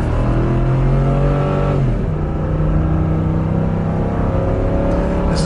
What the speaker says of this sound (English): it accelerates a lot like the old truck